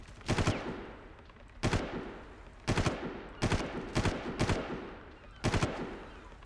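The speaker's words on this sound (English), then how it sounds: "Let's go shoot some people on the beach." Far Cry gunfire aimed at people on a beach: six sharp, close bursts of automatic shooting, each a quick rattle of a few rounds, separated by short pauses with a faint background hum.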